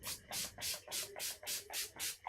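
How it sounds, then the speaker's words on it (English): An Urban Decay All Night setting spray bottle is pumped onto a face in about seven quick, evenly spaced hissing spritzes, close and fairly loud with no talking. "Then I'm going to take the Decay All Night Setting Spray."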